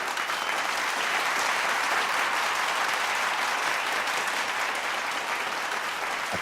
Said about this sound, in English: a deafening applause of 2 minutes followed